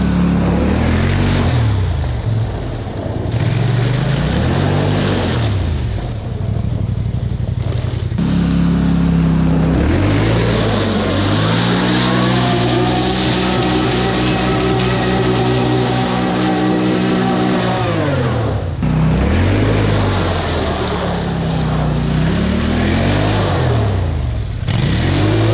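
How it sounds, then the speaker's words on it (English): A quad four-wheeler drifts across an icy frozen pond at night, its engine revving hard in loud, close bursts that climb and fall in pitch again and again. "I decided to get the four-wheeler out and play."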